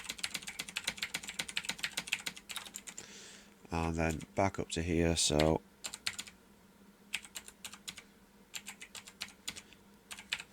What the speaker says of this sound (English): So use the number pad and the arrow keys on the keyboard.